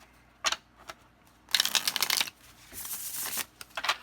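A deck of nature-themed tarot cards being shuffled by hand in several crisp riffling bursts with short pauses between, close and fairly loud, no talking.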